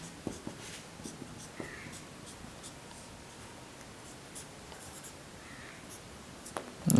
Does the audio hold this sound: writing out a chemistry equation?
yes